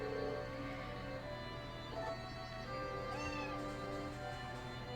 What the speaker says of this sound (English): You can see Romana has a couple of cats here.